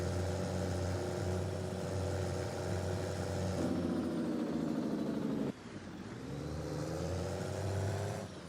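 A modded pickup truck's engine in a farming simulator, a steady close drone that rises in pitch, cuts off sharply partway through, then climbs again, with no voices.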